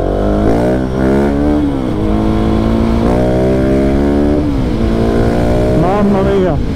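A 2020 KTM 690 SMC R supermoto motorcycle accelerates hard, its single-cylinder engine climbing through repeated rising sweeps and gear changes, loud and close, with a rider talking over it.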